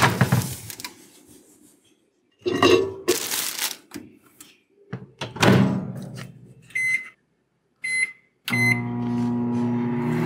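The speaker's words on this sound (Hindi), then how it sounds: "अब मैं इसको वार्म करूँगी थोड़ा माइक्रोवेव में" A microwave hums steadily in bursts between pauses while warming frozen food, with a few sharp beeps near the end, while someone talks over parts of it.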